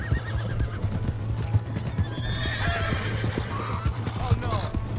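Rapid hoof clip-clop from a galloping horse in the Red Dead Redemption 2 video game on PS4, with a steady low hum and a few whinnies rising over the hoofbeats.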